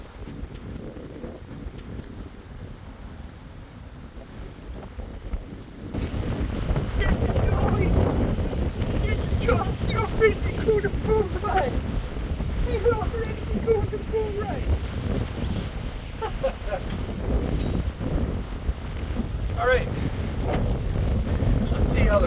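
A boat engine drones steadily over water, with wind buffeting the microphone and people talking faintly underneath.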